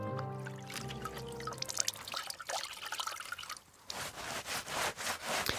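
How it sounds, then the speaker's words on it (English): Water splashes and pours in gentle bursts as a horse is washed in Kingdom Come Deliverance 2, a soft trickling sound that rises into rhythmic sloshing toward the end, over faint game ambience. "Let's wash our horse because it's very dirty."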